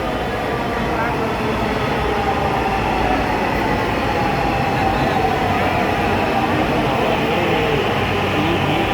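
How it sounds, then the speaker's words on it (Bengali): A metro train rumbles loudly and steadily into a crowded station in Dhaka, a continuous low roar with faint squeal, with voices murmuring underneath. "এই যে ট্রেন চলে আসছে"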